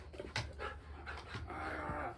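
A large dog pants close by in quick, breathy bursts with a faint whimper, soft and steady over about two seconds.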